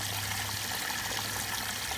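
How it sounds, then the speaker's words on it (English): Water drains steadily from a hydroponic flood-and-drain deep water culture tray through a trickle valve, a continuous close hiss of trickling flow with no pauses and no voices. "the water level will drop because I've got a special valve that I use, a trickle valve, to drain to a certain level"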